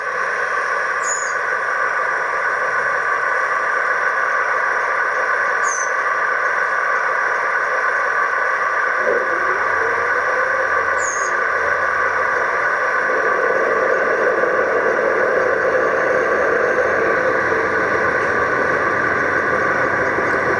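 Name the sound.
model train engine burble from speaker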